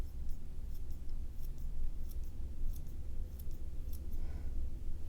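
Scissors snip small V-shaped notches into hair bangs at an angle, a row of crisp, close cuts repeating at a steady pace over a soft background hiss.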